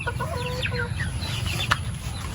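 Heritage chickens on a farm in Glan, Sarangani Province, cluck in a short series of clipped calls over a low, steady background hum.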